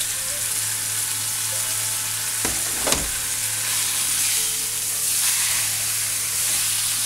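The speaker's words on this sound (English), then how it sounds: "now we're cooking this, and burning the outside" Pot roast meat with garlic searing in a hot pan, a steady close sizzle with a brief louder crackle and clatter near the middle.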